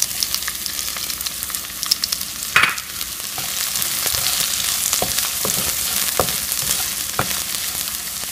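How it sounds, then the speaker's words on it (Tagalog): Onion fries with garlic in hot olive oil, a loud steady crackling sizzle with occasional scrapes and clacks of a stirring utensil against the pan. "Brown na po ang bawang. Sunod na po natin sibuyas."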